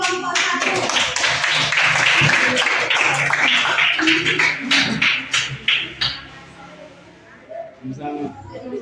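Students in a classroom clap for a presenting group, a dense burst of applause that thins into scattered claps and then fades, with voices talking over it.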